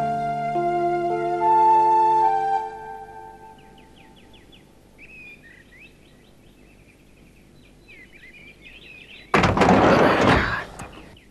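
A single door slams loud and close near the end, a sharp broadband thud that follows a quieter stretch of music and faint ambient sound.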